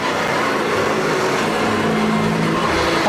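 A Hoover vacuum cleaner runs with a steady, loud roar, a dense continuous drone with a low hum holding unchanged throughout.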